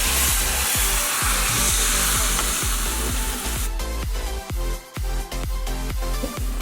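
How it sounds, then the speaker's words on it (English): Water rushes into a large curry pot of vegetables, a loud hissing pour that then gives way to rhythmic scraping stir strokes, close up, no voices. "Now we're going to add the water."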